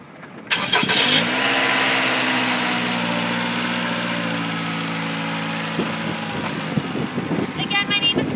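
A 2012 Scion tC hatchback with automatic transmission cranks briefly and catches, then settles into a steady, close idle that runs for several seconds; a voice speaks faintly over the engine near the end.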